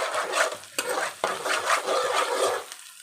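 Chili powder being stirred into egg bhurji frying in a pan, a spoon scraping in repeated strokes over a steady close sizzle.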